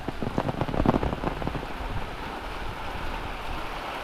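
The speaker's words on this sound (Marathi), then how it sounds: "आणि पाऊस काय पडतोय" Heavy monsoon rain pours down in a Konkan village during a windstorm, a steady dense hiss with a burst of louder drumming near the start before settling into an even roar.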